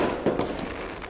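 Fireworks bursting in the Red Dead Redemption video game, a few muffled pops and crackles over a steady rumbling game background, fairly close but not loud.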